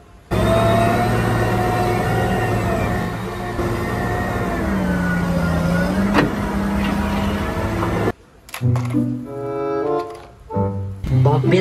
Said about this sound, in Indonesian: mobil loader penyorong tanah.